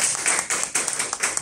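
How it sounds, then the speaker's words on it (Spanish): A classroom group applauds their classmates after a presentation, brisk, steady hand clapping from several people at close range, lasting about a second and a half with no talk over it. "un aplauso para sus compañeros."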